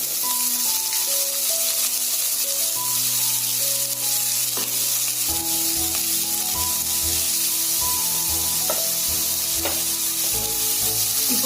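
Finely chopped onions, two of them, fry hard in coconut oil with curry leaves for a crab gravy. The sizzle is loud, close and continuous, with stirring scrapes and knocks throughout and no talking.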